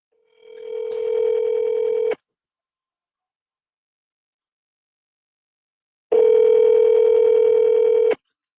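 Steady telephone dial tone heard while placing a sales call, one tone lasting about a second, a pause of silence, then a second clear two-second tone.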